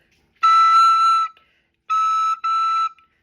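Tenor recorder sounding a sustained high E, three clear pure notes: one long tone, then two shorter ones after a pause, close and clean with no talking.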